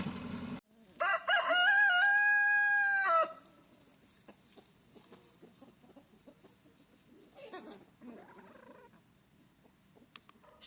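A rooster near a chicken coop gives one loud, close crow, followed by quieter clucking and scattered farmyard sounds.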